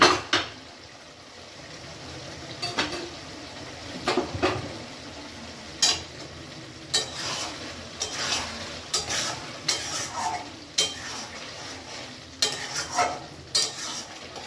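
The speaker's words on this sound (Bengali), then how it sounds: "এটাকে আমি বাটার দিয়ে সেঁকবো" Bread torn in half and toasted in butter in a pan, with a faint low sizzle broken by repeated sharp scrapes and taps of a spatula against the pan at irregular intervals; no one speaks.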